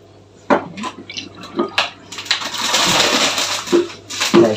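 Kitchen items clatter as they are put away while pasta water drains in a home kitchen. Dish and cutlery knocks come close and irregular over a steady wash of running, splashing water.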